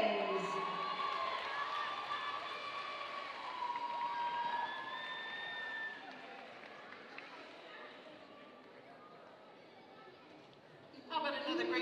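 Crowd at the Hura Tahiti 2018 dance competition cheering and applauding for the winners, with sustained, fairly distant roar, scattered shouts and clapping that taper off, then a brief louder burst at the end.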